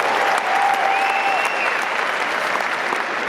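Continuous applause from a large audience at a rock hall of fame induction ceremony, dense steady clapping filling the whole stretch without talk over it.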